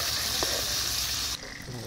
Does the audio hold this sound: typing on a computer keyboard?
no